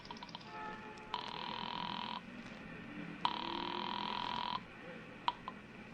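Old-style telephone bell ringing in a radio drama, two long steady rings with a pause between, fairly faint against a low background hiss.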